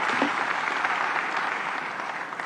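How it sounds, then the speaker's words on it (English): An audience applauds at an ANC gala dinner during a keynote address, a broad, sustained clapping that holds at a fairly even level throughout, with no voices over it. "We can applaud to that."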